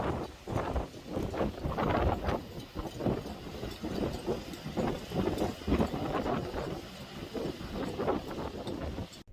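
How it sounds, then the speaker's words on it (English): Strong wind gusts in the evening by the sea with big waves, buffeting the microphone in rough, uneven bursts that roar steadily through the whole stretch without speech. "Super windy."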